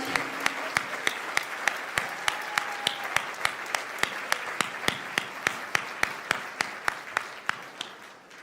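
Applause from an audience at a livestreamed Champions of Change event after the national anthem, a steady wash of clapping punctuated by regular sharp claps close by, brief tones faintly underneath.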